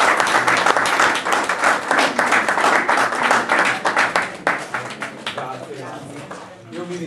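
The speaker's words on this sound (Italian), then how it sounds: "Quindi farei un applauso anche a tutti." Course participants applaud everyone at the close of an Italian training course on land reclamation, brisk crowd clapping with distinct individual claps, thinning toward the end where a voice begins to speak.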